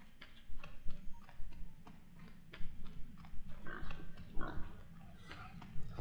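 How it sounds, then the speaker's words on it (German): A pig-like creature in the video game Enshrouded grunts and snorts in a run of short, uneven bursts, close and moderately loud, with sharp ticking clicks and game noise around it and no speech. "Oh, was ist denn das hier für ein Schweinchen?"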